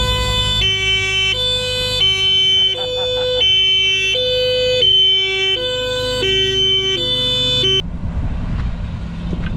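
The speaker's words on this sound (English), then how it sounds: "They hit the siren again." Loud emergency siren at a hot rod gathering, a steady two-tone wail cycling evenly for several seconds before cutting off into rumbling crowd and engine noise.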